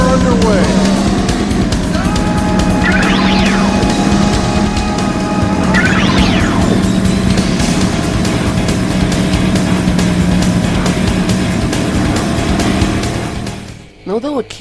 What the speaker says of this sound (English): this secret unlockable version of the Hornet racing on it.